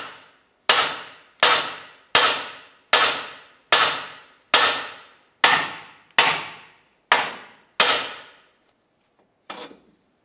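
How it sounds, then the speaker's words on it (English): A hammer taps the steering knuckle of a Honda Civic about nine times. The blows are sharp, loud and close, each ringing briefly, and come at an even, unhurried pace, followed by a faint final knock. "I'm going to go ahead and give the knuckle a few taps right here"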